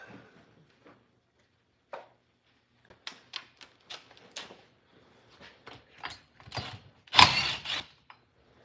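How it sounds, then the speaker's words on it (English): Metal parts clunk and creak as the flywheel is worked off a stripped-down Stihl MS250C chainsaw, a sparse series of close, dry knocks and clicks building to one louder scrape near the end, with no talk. "Pull that flywheel off."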